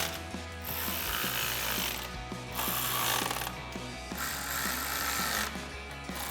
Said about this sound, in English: we're going to switch to a 5 millimeter Allen socket and 13 millimeter wrench for all the rest of the bolts.